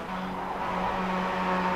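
Mazda race cars from the Advanced Mazda Cup cross the finish line at Virginia International Raceway, a steady loud blur of engine roar with a sustained tonal drone and no clear individual passes.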